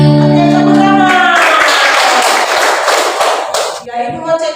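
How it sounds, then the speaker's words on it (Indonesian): A class of pupils at a primary school claps together in a dense burst lasting a few seconds, loud and close, right after a sung hymn ends. "Oke, tepuk tangan."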